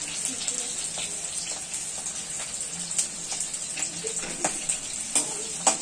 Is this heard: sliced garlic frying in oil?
yes